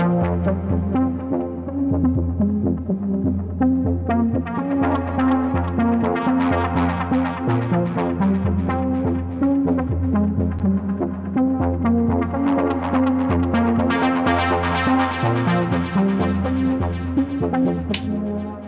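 A distorted delay effect jammed live in Ableton, with dense, continuous tonal textures and repeating echoes building and swelling at steady loudness throughout, alone without talk.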